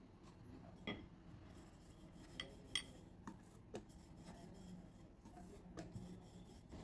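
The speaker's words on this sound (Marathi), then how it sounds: "हा गोळा असा प्रेस करायचा आहे आणि लाटून घ्यायचं आहे." A rolling pin rolls out methi khari dough on an oiled surface, soft rubbing and scraping strokes with occasional light clicks of the pin, quiet and close, no talking.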